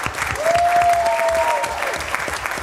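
A school board meeting crowd gives a steady round of applause for the teachers, dense clapping filling the room from start to finish, with a thin whistle or tone rising briefly above it.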